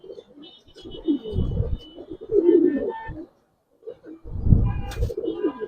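Male Giribaz pigeons coo close by in low, throaty bursts, with two main rounds of rolling coos separated by a short pause.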